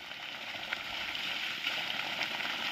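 Continuous rushing water from a small forest waterfall pours and splashes nearby, a steady broadband wash with no talking.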